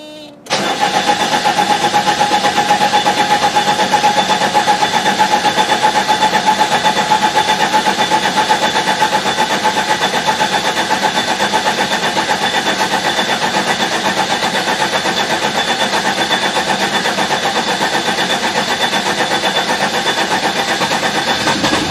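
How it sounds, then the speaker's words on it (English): A 1987 Mercedes 190D with the OM602 turbo diesel engine cranks and fires up for its first start after new hydraulic lifters, then settles into a loud, steady clattering idle that runs on without a break. "first start after replacing hydraulic lifters"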